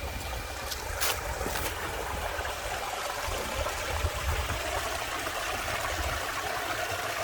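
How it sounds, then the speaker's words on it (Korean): A mountain stream flows through a deep, remote valley in Samcheok, its steady rushing water close and continuous, with a few brief clicks near the start. "물소리 끝내주는구나."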